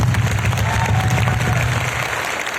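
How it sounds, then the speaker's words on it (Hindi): Loud applause from a motivational seminar audience fills the hall continuously, a dense steady roar of clapping with a low rumble, fading slightly toward the end. "सारी दुनिया जोरदार तालियां मैं बजाता हूं आपके लिए"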